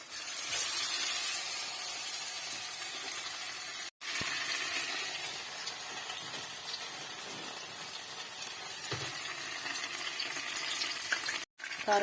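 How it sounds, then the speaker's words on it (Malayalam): Cauliflower pieces fry in hot oil for a Kerala-style dish, giving a continuous dense crackling sizzle that holds steady and close, with two brief dropouts. "അതിനുശേഷം നമ്മൾ എണ്ണ ചൂടാക്കി അതിലേക്ക് ഇട്ട് കൊടുക്കാം ഫ്രൈ ചെയ്യാൻ വേണ്ടി."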